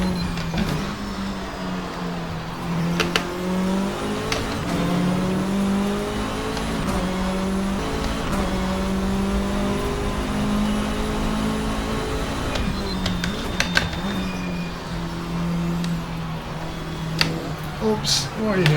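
A video game car locks up and drifts around a corner, its engine droning and shifting pitch with revs and brief tire squeals, while someone talks over the continuous motor noise.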